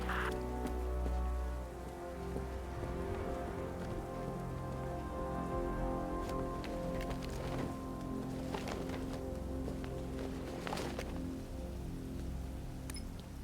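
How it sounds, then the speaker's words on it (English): Steady rain pours down in the video game Batman: Arkham Knight, a dense hiss of drops hitting surfaces, with occasional sharper splashes and no voices. "What's with all the rain?"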